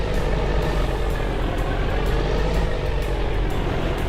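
A truck engine in Farming Simulator 25 on the Dakota map holds a loud, steady, rumbling drone, close and unbroken throughout, with no talk.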